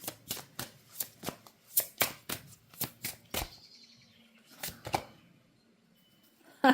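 Tarot cards being shuffled in a steady series of crisp riffling snaps, close and clear, then a pause before a card is drawn with a softer slide and flick.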